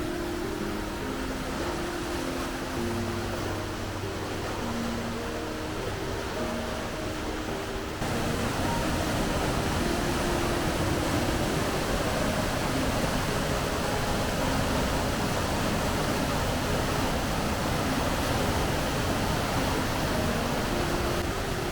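Water rushes steadily and loudly through the Mostnica gorge near Bohinj, a dense continuous roar with no breaks and no voices. A faint tonal sound under the first eight seconds falls away, and the roar grows slightly fuller from then on.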